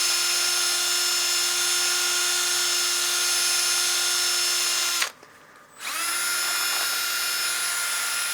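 A drill spins a 600-grit sanding disc against a turned wooden bowl with a loud, steady high whine, pauses briefly, then spins up again to the same tone.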